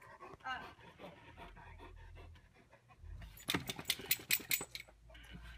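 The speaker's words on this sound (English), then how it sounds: "Just a dog in the middle of Africa." A dog somewhere in Africa panting close by in quick, rhythmic breaths, growing louder and sharper toward the end over a low background murmur.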